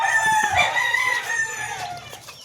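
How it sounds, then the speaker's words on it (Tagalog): A flock of about two dozen chickens and chicks fills the air with overlapping clucks and high cheeping peeps, close and continuous, with no talk. "Itong mga sisiw na to."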